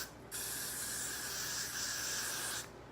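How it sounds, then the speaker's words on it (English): Hairspray shoots from an aerosol can onto teased hair in one steady, close hiss lasting about two seconds, starting and stopping abruptly. "and then I'll just spray it a little bit more"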